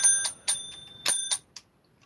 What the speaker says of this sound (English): I'm forever ringing bells at all times of the year